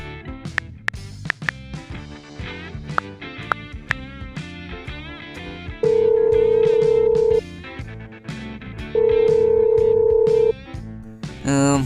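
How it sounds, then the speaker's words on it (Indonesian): Quick tapping of phone keys, then two long ringback tones on the line, each lasting over a second, with background music throughout. "Oke, kalau begitu saya telepon dulu ya."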